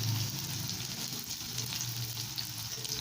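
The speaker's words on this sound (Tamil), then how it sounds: "இதில் பாதி மட்டும் ஆட் பண்ணி நல்ல ப்ரௌன் கலர் ஆகிற வரைக்கும் வறுத்து எடுத்துக்கலாம்." Chopped onion frying in hot oil until brown for Burmese atho street food, a steady dense sizzle running throughout with a few soft stirring scrapes and no voices.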